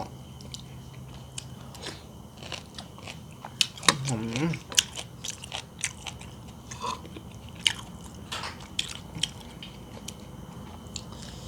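Chewing and biting on boiled oxtail and beef skin served with spicy jaew dipping sauce, close wet crunching and squishy mastication in irregular bites, with faint murmured speech in the background.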